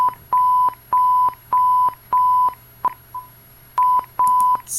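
A French emergency alert alarm sends a series of loud, evenly pulsed beeps at a single pitch, about eight tones in steady rhythm with a brief gap partway through, over a faint background hum.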